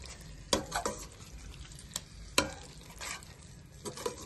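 A curd gravy for aloo dum biryani simmering in a pan over a medium flame, with a soft continuous sizzle broken by several sharp clanks and scrapes of a spoon stirring against the pot, close and without talk.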